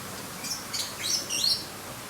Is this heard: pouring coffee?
no